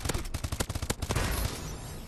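Rapid bursts of automatic gunfire in the online shooter Call of Duty: Advanced Warfare, with dense overlapping shots for about a second and a half before fading into a trailing rumble.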